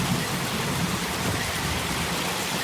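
Heavy rain pours during a hailstorm, with thunder rolling through it. The loud, dense downpour holds steady throughout, and no one speaks.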